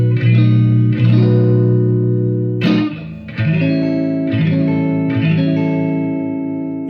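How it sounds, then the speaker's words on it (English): A Fender Stratocaster through a Marshall Plexi 1987x amp and 1960BX 4x12 cabinet, with Holy Grail spring reverb, plays a few loud overdriven chords and notes that ring out and decay into a reverb tail, alone without talk. "Just add a little bit of reverb with the Holy Grail spring setting."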